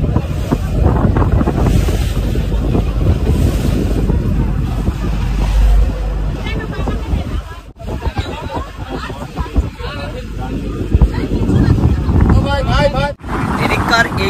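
Passenger launch on a wide river on the Namkhana route near Gangasagar, with a steady engine drone and heavy wind buffeting the microphone throughout, loud and unbroken, with a couple of brief dropouts.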